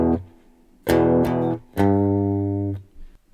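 An electric guitar plays a measure of a rock song in an easy lesson: two quick strummed power chords, a pause, then a longer chord left ringing for about a second, played alone and close.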